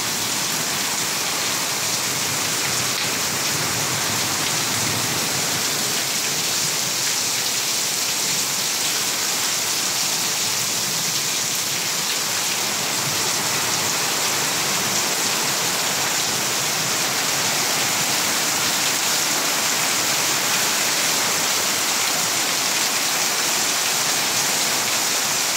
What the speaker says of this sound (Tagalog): Biro to ulan na to, lakas oh.